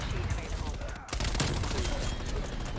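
Rapid automatic gunfire from a War Machine weapon in a Call of Duty multiplayer match, dense and continuous, with a brief gap before the firing resumes, heard alongside game noise and speech.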